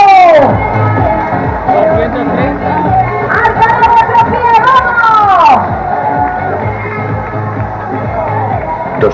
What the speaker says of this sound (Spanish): ¡Le recibimos con este aplauso! ¡Con ese ánimo! ¡Con ese entusiasmo!